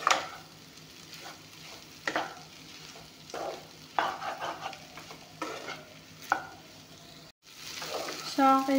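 Vegetable samosa filling of peas, peanuts and potato frying and being stirred in a pan, with close scraping strokes in bursts over a steady soft sizzle, plus a short clatter near the end.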